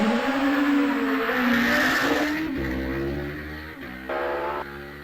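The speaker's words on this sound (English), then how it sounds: "Sound of the engine was slightly off song, but it's maybe it hit the rev limiter." A Class J2 hillclimb race car at the British Championship Hillclimb at Prescott screams past at high revs, engine note shifting and stuttering as if bouncing off the rev limiter, loud and close, with no voices.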